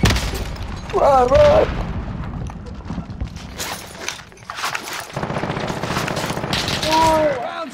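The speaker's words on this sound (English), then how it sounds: "Oh shoot, I'm getting shot at." Bursts of gunfire and booms ring out in a PS5 first-person shooter match, mixed with game voice lines and a player talking over the action.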